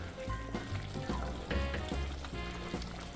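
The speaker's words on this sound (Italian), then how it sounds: "Lascio cuocere ancora per 15 minuti e ogni tanto le giro sia le polpette che le zucchine." Meatballs and stuffed zucchini simmering in tomato sauce in a large pan, with a continuous close sizzle and bubbling crackle punctuated by soft pops and occasional stirring knocks.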